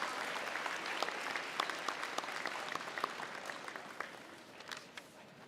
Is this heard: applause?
yes